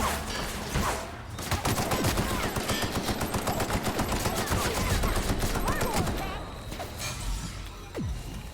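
Sustained incoming gunfire in The Outer Worlds, rapid automatic bursts rattling almost continuously for several seconds with sharp impacts and whooshes, easing briefly before a final shot, with a sigh or breath faintly underneath.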